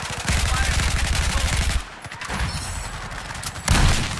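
Rapid bursts of Battlefield 4 gunfire on the Guilin Peaks map rattle loudly in sustained volleys, pausing briefly before another heavy burst erupts near the end.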